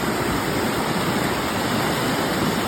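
A muddy brown stream near Kataragama, swollen by frequent rain, rushes steadily with a loud, continuous broadband roar of flowing water, close and unbroken throughout with no voices.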